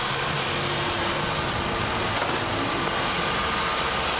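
A Holden VY Commodore with the 3800 V6, being repaired for a coolant leak, runs steadily nearby with a dense, continuous engine roar and only slight swelling in pitch, no talk over it.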